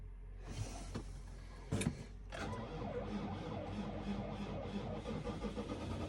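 A cold New Holland tractor cranks over on a weak battery, a rough whirring turn that catches briefly with a couple of sharp bursts and then keeps running as a steady, loud, busy engine rumble close by.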